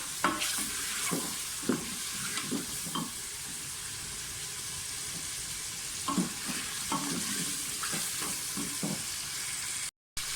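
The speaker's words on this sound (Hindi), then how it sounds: "गोश्त भूनते हुए मुझे तकरीबन 1 मिनट हो गया।" Mutton pieces fry and are stirred in a pot, giving a steady close sizzle broken by repeated scraping stir strokes at an irregular rhythm, with one brief dropout near the end and no talk.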